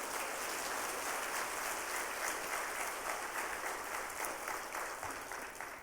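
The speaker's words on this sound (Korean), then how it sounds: "뜨거운 박수로 우리 환영하겠습니다" Sustained applause from a congregation at a church service, a dense steady clatter of clapping that fills the whole stretch before easing slightly at the end.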